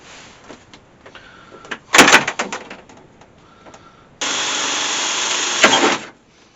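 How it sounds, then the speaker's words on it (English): A power drill whirs in two bursts while drilling screw holes near a panel edge in a boat galley, a short rough one followed by a longer steady run, close and loud. "I'm going to drill quite close to the edge to put these screws in"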